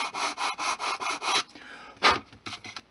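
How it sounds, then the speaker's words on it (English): A flat file rasps burr off the edge of an HO-scale model roof, close and crisp, in six or seven quick regular strokes before a pause and a few shorter, scattered scrapes. "I just finish it off using a flat file"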